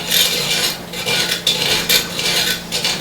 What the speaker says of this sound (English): we're going to stir clockwise